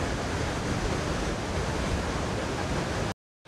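Iguaçu Falls on the Brazilian side roars as a dense, steady wall of broadband water noise, close and loud, holding constant for about three seconds before cutting off abruptly.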